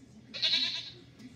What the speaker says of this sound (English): A baby goat is called a kid. It likes to stay close to its mother.